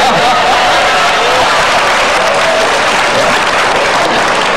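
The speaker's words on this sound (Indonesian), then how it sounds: "Mereka tepuk tangan karena kagum." A studio audience on a television talk show breaks into loud, sustained applause, a dense and even roar of many hands clapping without pause.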